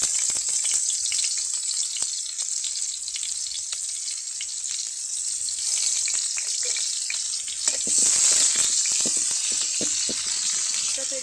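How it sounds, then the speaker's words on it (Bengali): Chopped onion frying in a pan while samosa filling is being made, a steady close sizzle running throughout with small crackles and occasional stirring scrapes, no talk. "আমি আগে পেঁয়াজ কুচিটা ভালো করে ভেজে নিব"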